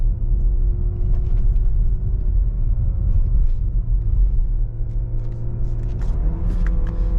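Inside a 2020 Audi Q5 2.0T quattro on a bumpy road, a steady low cabin rumble of engine and tires carries on throughout without talk.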